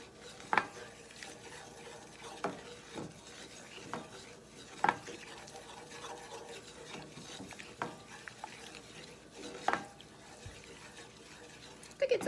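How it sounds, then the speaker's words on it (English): A utensil stirs brown butter scrambled eggs in a pan, with quiet, irregular scrapes and taps over a faint sizzle. "So we're just going to keep stirring so we don't let it burn."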